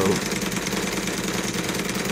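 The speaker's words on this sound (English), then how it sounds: "it's driving that other engine's main shaft quite well, and the gear-driven pump while it's pumping water" Cosmo vertical steam engine running and driving another engine's shaft and a gear-driven water pump, a steady loud mechanical chugging drone with a low rhythmic pulse.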